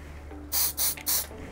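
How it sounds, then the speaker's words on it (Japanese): Aron Alpha superglue accelerator spray hisses in three short bursts, close and crisp, against a quiet room hum. "アロンアルファの硬化促進剤っていうのがあってこれアロンアルファをパッと固めるためのスプレーなんですけど"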